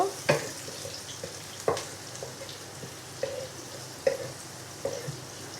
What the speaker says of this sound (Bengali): ওই তেলটার মধ্যেই এখন একটু পেঁয়াজ কেটে নিয়েছি, সেটা দিয়ে দিব। এখন আমি এটা একটু ভেজে নিব।